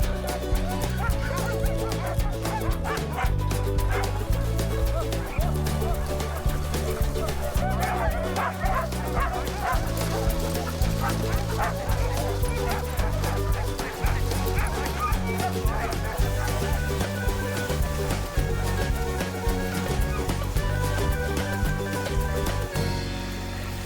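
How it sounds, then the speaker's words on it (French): Inuit sled dogs on Baffin Island's coast bark and yip in a loud, continuous chorus, mixed with whimpers, during a multi-day sled race. "Un chien de traîneau inuit, c'est pas mal loin du chien domestique."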